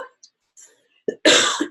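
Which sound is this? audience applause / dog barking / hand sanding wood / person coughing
person coughing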